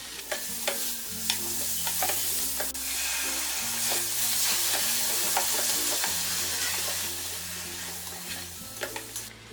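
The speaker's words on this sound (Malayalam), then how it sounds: "ഇതിലേക്ക് ഇനി അരിഞ്ഞു വെച്ചിരിക്കുന്ന ടൊമാറ്റോയും തൈരും കൂടി ചേർത്ത് ഇതൊന്ന് ഇളക്കി കൊടുക്കാം." Egg biryani masala sizzles loudly in a pan as chopped tomato and yogurt are stirred in, with a steady frying hiss and repeated scraping strokes of the spoon throughout.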